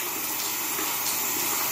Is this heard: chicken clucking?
no